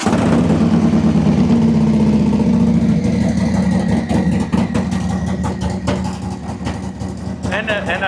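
A Harley-Davidson Low Rider S fitted with a new lithium-ion battery cranks and fires up on a cold start, then settles into a loud, close, throbbing idle with lumpy pulses while someone talks over it.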